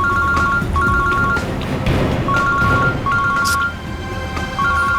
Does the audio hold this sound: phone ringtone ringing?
yes